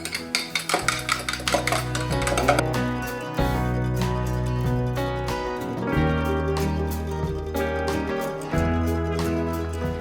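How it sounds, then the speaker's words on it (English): Spoons stirring chia seeds inside jars, producing a rapid run of sharp metallic clinks and scrapes against the glass, close and clear, then steadier stirring over a low background hum with no talking. "Now I'm gonna just give each jar a good stir."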